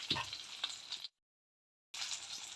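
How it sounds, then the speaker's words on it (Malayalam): Spices (chili, coriander, turmeric and black pepper powders) sizzle steadily in hot oil for a brinjal tamarind curry, loud and close, with a sudden silent break in the middle before the frying resumes. "ഫ്രൈ ആവണം അപ്പോൾ നമ്മളൊന്ന് നന്നായി ഇളക്കി കൊടുക്കാം"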